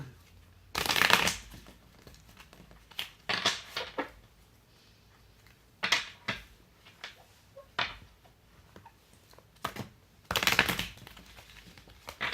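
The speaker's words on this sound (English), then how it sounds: "Couple more shuffles here." Close, quiet bursts of tarot cards being riffled and shuffled by hand, roughly half a dozen separate shuffles with pauses and soft handling sounds between them.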